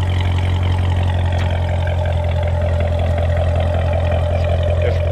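A 2015 Chevrolet Corvette Z06 with a quad sport exhaust idles steadily, a deep low rumble holding constant and loud throughout with no revving.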